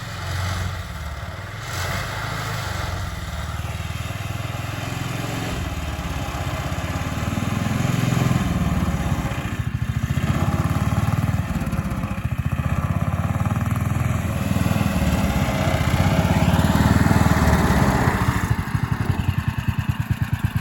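A fixed-up three-wheeler's engine runs loud and rattly for a long stretch, a steady close drone with clattering vibration that builds in intensity, with no talking over it.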